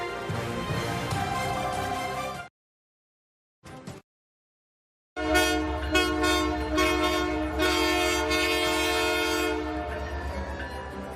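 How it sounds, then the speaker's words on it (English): The CPKC holiday train passing through Ontario communities, its long horn blasts sounding loud and sustained, broken by a short gap, over a heavy rumbling of rail cars. "The CPKC holiday train made its way through several communities in the region, including Finch and Merrickville this afternoon."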